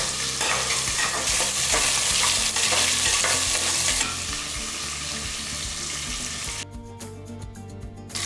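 Whole small shallots and garlic frying in hot oil for a rice-and-dal dish, a loud continuous sizzle that is briefly stirred, then drops to a lighter crackle as a spoon clinks near the end.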